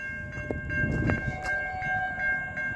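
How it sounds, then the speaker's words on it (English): A train approaches on the track at night in Australia, a steady rumble with horn-like tones sustained over nearly three seconds and no talk. "got a train"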